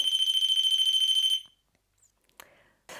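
A REM pod paranormal detector's alarm sounds as a rapid, pulsing electronic beep, loud and shrill for over a second before cutting off to near silence, followed by a couple of faint clicks.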